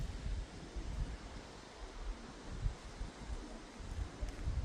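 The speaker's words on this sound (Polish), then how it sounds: "strasznie mocny dzisiaj wiatrzysko jest" Strong gusting wind blusters across a microphone outdoors on a sunny day with gusts over 50 km/h, a low rumbling roar that swells and dips in waves with no voices.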